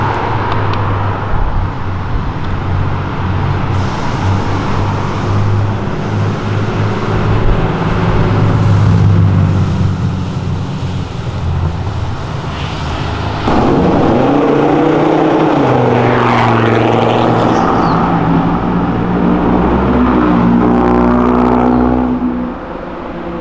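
A Ford GT engine roars and revs continuously while drifting, pitch rising and sweeping as it accelerates, loud and close with steady road noise throughout.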